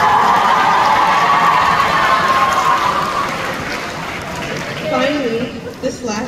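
Graduating seniors at a high school commencement send up a loud sustained roar of cheering and shouting that slowly fades as voices rise over the crowd.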